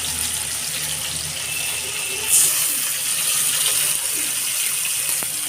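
Water poured into a bowl of spice paste while making mustard hilsa fish curry, a steady trickling splash heard close and alone, with a brief louder gush partway through.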